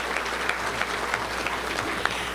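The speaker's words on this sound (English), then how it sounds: "Let's give a round of applause for Debbie" A roomful of people at a Little Rock Touchdown Club meeting gives a round of applause, a steady moderate patter of clapping with a few sharper individual claps standing out.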